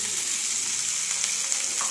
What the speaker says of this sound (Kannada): ಡೈರೆಕ್ಟಾಗಿ ಹಾಕ್ಬಿಟ್ಟು ಫ್ರೈ ಮಾಡ್ತಾಳೆ.